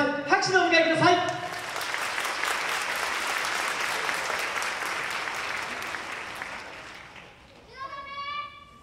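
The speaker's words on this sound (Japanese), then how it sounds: "皆さん拍手のお迎えください" Audience applause welcoming the Hachiman Junior High School second-year taiko club, a full sustained round of clapping that swells and then fades, with a voice speaking just before and again as it dies away.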